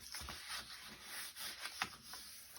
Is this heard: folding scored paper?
yes